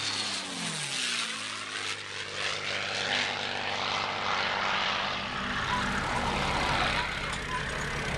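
A P-51 Mustang flies past at an air show, its propeller engine a loud, steady roar that holds the whole time with a sweeping pitch shift as it passes.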